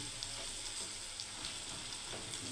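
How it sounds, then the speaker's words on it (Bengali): Mung dal kofta fritters sizzle steadily in hot oil, a dense continuous crackling hiss with tiny popping bursts, close and even throughout, no voices. "এবারে ভালো করে ভেজে নেবো বন্ধুরা মুগ ডালের কোপ্তা কারি বানাবার জন্য"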